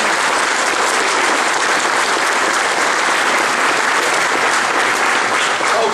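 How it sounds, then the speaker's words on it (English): Audience applause at a company event during a Kentucky governor's visit to Troll and Toad, a dense, steady wash of many hands clapping that holds loud and even for the whole stretch, with no voices above it. "let's hear a round of applause"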